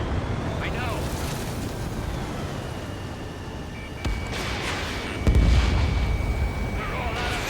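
Gunfire and heavy artillery-like blasts crack out in the aerial combat game Ace Combat 7 over a constant roaring wind and engine noise, with sharp bursts near the middle and voices talking over the din.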